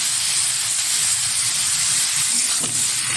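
Cut potatoes and an onion hit hot oil in a pan, producing a loud, steady hiss of sizzling that fills the whole stretch without a break.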